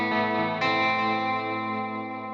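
A sustained electric guitar chord on the bridge single-coil pickup of a Hartwood Charger Origin, with a bright, sharp edge, re-struck once early on and left to ring out, slightly brittle and trebly.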